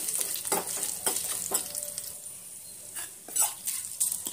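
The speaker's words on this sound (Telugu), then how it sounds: "పోపు వేసుకొని తిరగమాత వేసేసుకోవడం" Mustard seeds and other tempering spices sizzle steadily in hot oil for coconut yogurt chutney, with a spoon stirring and scraping against the pan now and then, close up.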